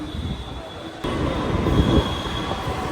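A Delhi Metro train at a station gives off a steady, loud rumble that swells abruptly as the cars move. A thin high-pitched wheel squeal hangs over the noise throughout.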